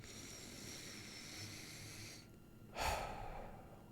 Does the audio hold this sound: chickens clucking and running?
no